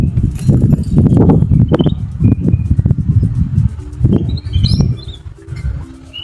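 A white-rumped shama (murai batu) kept as a pet bird gives short clear chirps and whistles, scattered among nearby knocks and shuffling sounds.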